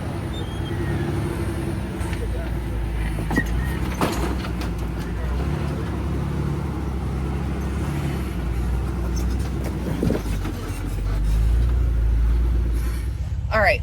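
Jeep rock crawler with high-articulation rock crawler suspension working over Tennessee rock gardens: a steady, low engine rumble throughout, swelling louder near the end, with speech partly over it.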